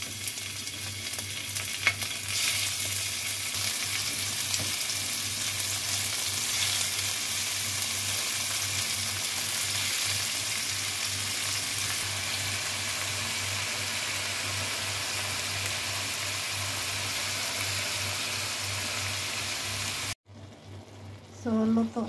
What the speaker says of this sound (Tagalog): Lagay na tayo ng ating enoki mushroom.